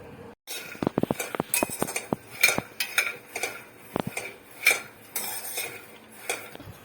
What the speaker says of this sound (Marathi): मी इकडे गूळ कापते बारीक बारीक जरा